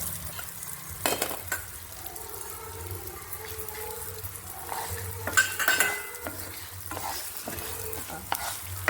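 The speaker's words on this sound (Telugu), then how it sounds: "అగస్త్య ఆకు కూడా వేసి ఇలా వేయించుకోవాలి బాగా" Cumin and agathi leaves frying in a pan with urad dal, coriander seeds and asafoetida, a close sizzle under repeated spatula scrapes and stirring clatter, with no talk.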